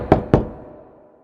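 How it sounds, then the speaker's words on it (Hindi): Two quick knocks on a small wooden door in a fairy-tale setting, close and crisp, evenly spaced, followed by a short fading resonance with no talking. "थम्बलीना ने दरवाजा खटखटाया"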